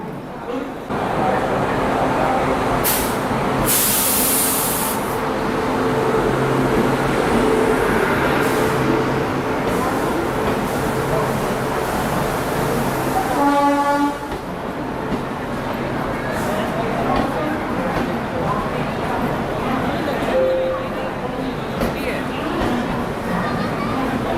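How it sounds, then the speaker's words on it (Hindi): Prayagraj Humsafar Express pulling into a platform at New Delhi railway station, a continuous low rumble of rolling wheels and station bustle with a brief hiss, a horn-like tone midway, and a voice talking over it. "अपनी प्रयागराज हमसफर एक्सप्रेस अभी प्लेटफॉर्म नंबर 9 पर लगाई जा रही है नई दिल्ली रेलवे स्टेशन के"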